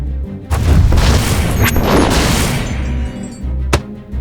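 A massive cartoon explosion from a Sonic the Hedgehog animation: a loud, sustained roaring blast with deep rumbling that carries for several seconds, followed by a sharp second bang near the end.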